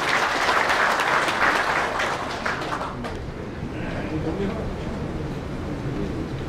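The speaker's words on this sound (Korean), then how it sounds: "많은 박수 부탁드립니다" An audience at a Uiseong Kim clan association general meeting applauds the chairman, with dense clapping that is strongest early on and then settles into a softer, steady roar of sound in a large hall.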